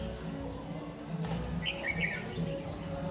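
Red-whiskered bulbuls chirp in short, bright bursts near a bird trap, moderately close, over a constant low hum of background noise.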